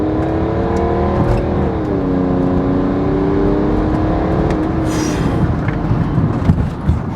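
A BMW 330d E90 diesel saloon pulls away and accelerates hard, a loud close engine drone rising steadily in pitch for several seconds with tyre and wind roar beneath.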